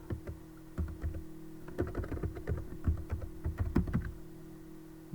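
Computer keyboard typing at a steady pace while a Verilog half adder module is written, with dense clustered key clicks close to the mic over a constant low hum.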